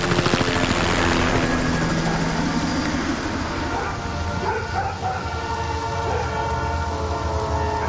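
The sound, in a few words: trains passing in a neighborhood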